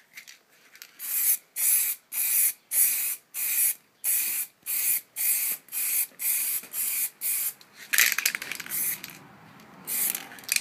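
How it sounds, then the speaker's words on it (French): A spray paint can coats a PS3 controller with about a dozen short, evenly spaced hissing bursts, then a longer, rougher spray near the end. The spray is close and loud. "bien remuer la bombe"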